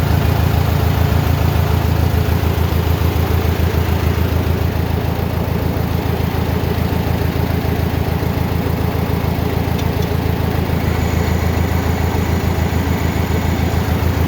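A Farmall 450 LP tractor engine runs steadily under load with the brake locked on, a continuous low, throbbing drone that stays loud and even throughout with no voices.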